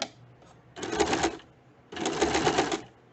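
Home sewing machine stitching along the folded fabric edge of a puff sleeve, two distinct bursts of steady rapid whirring with a short pause between, close and moderately loud.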